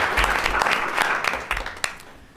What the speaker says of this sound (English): Can we give them another round of applause for...